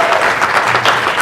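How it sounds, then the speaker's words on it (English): A crowd gives itself a round of applause in a short, loud burst of dense, close clapping. "give yourselves a round of applause"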